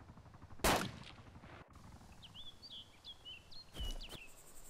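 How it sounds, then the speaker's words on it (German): Gunfire aimed at the player in the Arma 2 DayZ Overwatch mod: two sharp, loud shots about three seconds apart, with faint chirping ambience between them. "Da wird direkt auf mich geschossen."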